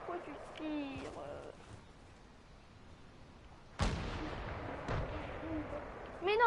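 Gunfire crackles in a video game: a sharp loud shot cracks out midway, another follows about a second later, and voices talk over the game's background sounds.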